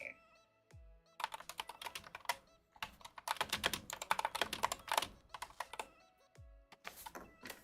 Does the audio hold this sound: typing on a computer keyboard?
yes